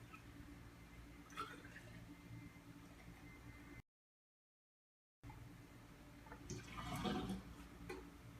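Coolant trickles and splashes faintly into the radiator of a GM Silverado, Sierra, Suburban or Yukon pickup, a soft liquid pour broken by a brief gap, swelling slightly toward the end.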